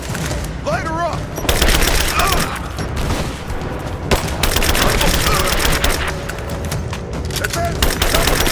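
Rapid bursts of gunfire and automatic weapons rattle through a combat scene in the Rise of the Tomb Raider video game, loud and dense, with shouted voices mixed in over the barrage.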